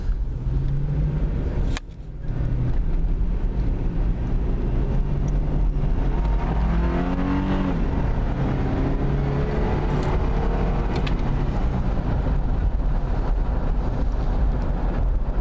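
A 1997 Isuzu Rodeo driving, with loud, steady road and engine rumble throughout, a brief dip near the start, then the engine revving up and shifting through gears. No voices are heard.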